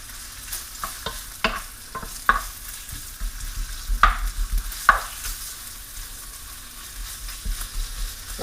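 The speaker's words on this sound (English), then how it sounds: "That'll help to start rendering the fat from the bacon." Bacon and vegetables frying in an oiled pan, a steady sizzle broken by several sharp stirring scrapes and clacks of a utensil against the pan, close and fairly loud with no voices.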